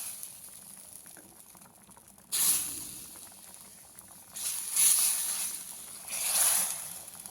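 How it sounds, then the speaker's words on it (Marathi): Chakwat leaves sizzling in a pan right after hot tempering is poured over them, fizzing crackle swelling in several loud surges over a quieter simmer, close up and with no talking. "अगदी असा चरचर आवाज येतोय आपल्या फोडणी टाकल्यानंतर भाजीचा"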